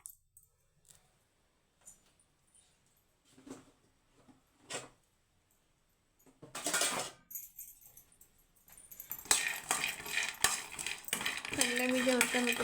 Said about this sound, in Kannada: ನೋಡಿ, ಈ ಥರ ಹುರ್ಕೋಬೇಕು ಕಡಲೆ ಬೀಜನ